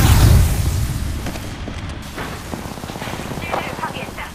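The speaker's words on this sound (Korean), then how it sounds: "수류탄 던진다" A grenade blast in the shooter game Apex Legends, a loud low boom at the start that fades into rumbling debris and scattered crackles, with game voices faintly in the background.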